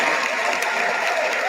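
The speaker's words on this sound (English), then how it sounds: "Let's give her a round of applause." An audience claps at a talk, a brief dense burst of applause from a crowd.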